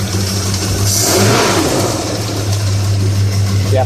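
A 1979 Chevy El Camino V8 with an aftermarket fan revs up loudly and close, a deep rumbling idle swelling into a throttle blip and settling back to a steady low drone.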